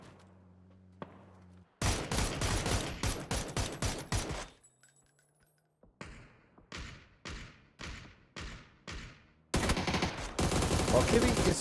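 Gunfire in a PUBG battle royale match: rapid bursts of shots crack out in quick rhythmic volleys, pause briefly, then resume as spaced single shots before a final dense burst, loud and close throughout.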